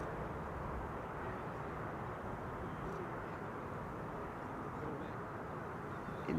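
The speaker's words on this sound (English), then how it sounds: "This is KLM flight 924 arriving from Scotland" A KLM passenger jet, a flight arriving from Scotland, rumbles in to land at Amsterdam Schiphol, heard as a steady broad roar at moderate distance that stays constant throughout.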